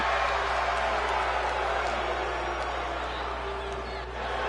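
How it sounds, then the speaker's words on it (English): A wrestling crowd boos a wrestler during a match, a broad, steady roar of disapproval filling the arena beneath a commentator's voice. "getting booed out of the building by the crowd"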